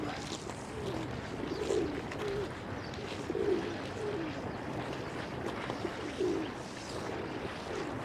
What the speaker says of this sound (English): Pigeons mixing it up with these smaller birds.